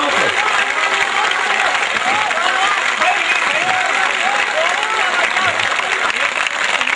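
An audience at a Hindi poetry recital in a pavilion claps loudly and continuously, a dense, sustained wash of applause with a few indistinct voices mixed in.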